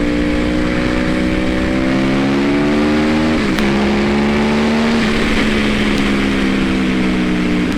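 A 2012 Yamaha R1 sport motorcycle engine revs close and loud, climbing steadily in pitch through a gear, dropping briefly at each shift, then pulling up again in a continuous strong drone.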